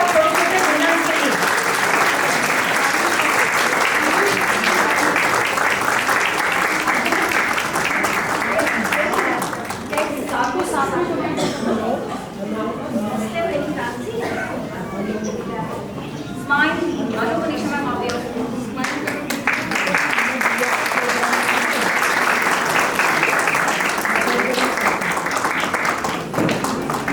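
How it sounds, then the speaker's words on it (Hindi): Audience at a play school annual day function claps loudly for the young winners, a dense sustained applause that briefly dips mid-way while a voice is heard, then swells again to the end. "तालियां बजा दीजिए हमारे छोटे छोटे विनर्स के लिए।"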